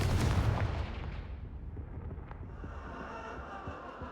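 Confringo fire blast spell cast in the video game Hogwarts Legacy: a loud booming burst that rolls into a sustained roaring, crackling rumble fading slowly over several seconds, with no talk.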